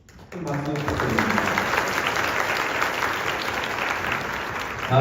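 A large crowd of students at a school welcoming ceremony bursts into loud, sustained applause after a short voice, dense clapping that carries on steadily to the end.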